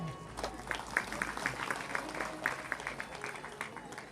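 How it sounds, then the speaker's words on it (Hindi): Scattered clapping from a gathered audience at a devotional Hindi religious program, fairly soft and somewhat distant, with individual claps standing out over a murmuring background and faint voices. "ताली बजाओ।"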